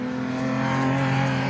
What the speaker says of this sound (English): rather rapid and loud Ford Escort XR2